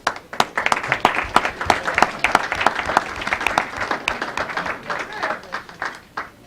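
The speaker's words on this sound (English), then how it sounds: "Go for some applause." A town Board of Selectmen meeting room fills with steady applause from a modest crowd, sharp individual claps rippling for several seconds with murmured voices underneath.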